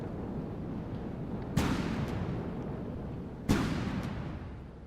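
Two heavy booming shots from a clipless cannon in the naval building game From the Depths, spaced about two seconds apart, each followed by a long rumbling decay over constant dense background noise.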